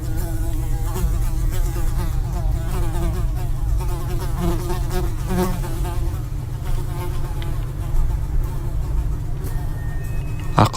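A buzzing fly circles steadily over a constant low hum, loud and continuous throughout, with no clear gaps and a brief sharper sound near the end.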